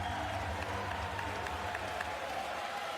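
A volleyball arena crowd at a France versus Argentina men's Nations League match claps and cheers in a steady, rhythmic wash of applause, moderately loud and continuous, without talk over it.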